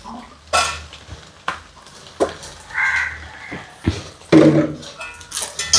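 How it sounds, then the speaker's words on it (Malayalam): A simple breakfast dish is mixed in a pan, with irregular close clinks and scrapes of a utensil against metal and bursts of sizzling between them, while a bird calls in the background. "മിക്സ് ആക്കി നന്നായിട്ട് മിക്സ് ആക്കി എടുക്കാം"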